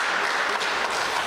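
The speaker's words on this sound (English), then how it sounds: "In April of 24, Judge John Anderson, let's give Judge John Anderson a round of applause." Audience applause at a village town hall meeting, a dense, steady wash of many hands clapping at close range, sustained evenly through the whole short stretch with no voices over it.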